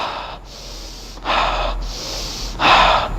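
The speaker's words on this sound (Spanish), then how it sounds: "Cuando tengo hipernea, yo lo que hago es una respiración rápida pero profunda" A person breathes quickly and deeply to demonstrate hyperpnea, three loud, close breaths with forceful inhales and exhales separated by brief pauses, with no talk over them.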